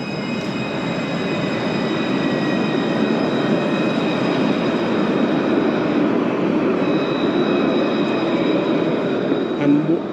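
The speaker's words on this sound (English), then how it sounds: "So that's the tram. So they have a tram service." A tram in Nice, France rolling past, a loud steady rumble of wheels on rail with thin high squealing tones throughout, close and continuous.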